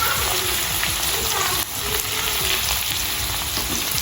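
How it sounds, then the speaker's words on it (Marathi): Green chilies and garlic hit hot oil while cooking Nashik-style milk shev bhaji, giving a loud, continuous close sizzle with a brief dip partway through and faint stirring. "मिरच्या आणि लसूण टाकतोय आपण आता"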